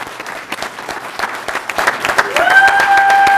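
Legislators in a state House chamber applaud during a floor session, with sparse individual claps swelling into fuller clapping, and a faint electronic tone sounding near the end.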